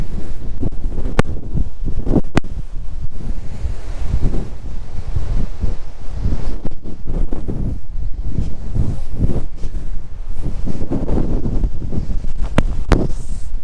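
Strong, steady wind on Jogimatti hilltop near Chitradurga roars and buffets the microphone without letup, a loud gusting rush with a few sharp knocks, and no one speaking.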